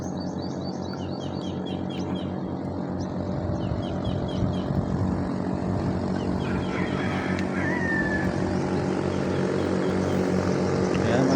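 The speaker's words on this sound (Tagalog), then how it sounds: "Helicopter." Helicopter passing over a waterway with a racing boat nearby, a steady, loud rotor and engine drone that holds throughout and builds slightly, with faint bird calls above it.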